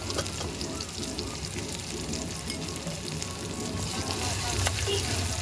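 Ginger paste frying in oil for a Bengali rupchanda fish curry, a dense continuous sizzle and crackle throughout, close and even, with a faint occasional stir.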